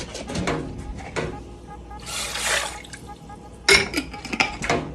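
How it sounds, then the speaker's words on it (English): Water added to a pot of pasta sauce on a stove, with a brief splashy pour in the middle, pot clatter around it and a voice speaking over parts of it. "Now we're going to add water."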